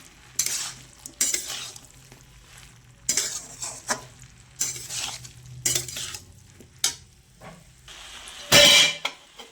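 Vegetables being sautéed and stirred with coriander and cumin powder in a pan, repeated scraping strokes of a spatula against metal over a soft sizzle, with a sharp loud scrape near the end.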